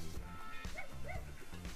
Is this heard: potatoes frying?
no